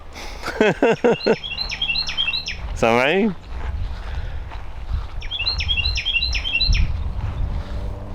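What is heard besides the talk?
small bird chirping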